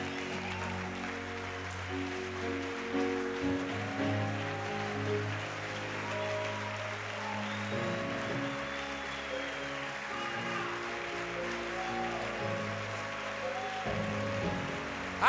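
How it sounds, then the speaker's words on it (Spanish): Church congregation applauding God during a service, a steady broad wash of clapping running the whole time under sustained music with organ-like tones. "ponte de pie y aplauda a su majestad"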